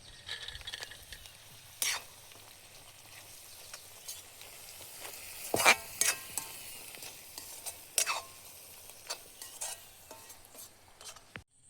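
Watermelon halwa with cashews in a frying pan, a faint low sizzle with a few sharp spoon scrapes and clinks scattered through it, quiet and without talk.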